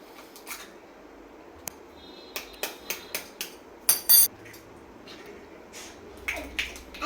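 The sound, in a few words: beating eggs for egg dosa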